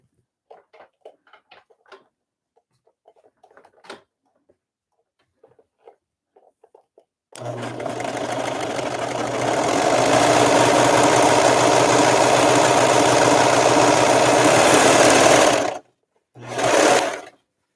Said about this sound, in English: I'm just gonna do the edge with the serger quickly.